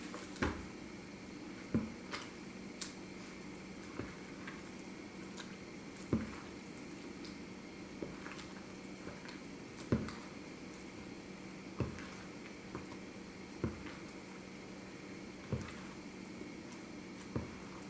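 Banana bread batter being stirred after extra water is added, giving soft wet squishes and drips that recur every couple of seconds over a steady background hum, close and fairly quiet.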